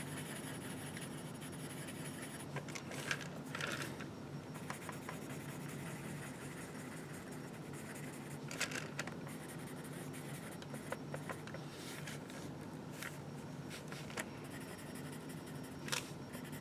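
Graphite pencil scratching and shading on paper in steady layered strokes, with occasional louder taps and scrapes as the pencil is lifted and turned, close and fairly quiet throughout.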